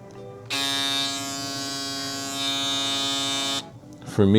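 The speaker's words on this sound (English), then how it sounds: "the next one is the Metal Instinct shaver. This thing is a beast" A Metal Instinct electric shaver buzzes steadily for about three seconds with a bright, high-pitched motor whine, then cuts off abruptly, followed by a brief clatter.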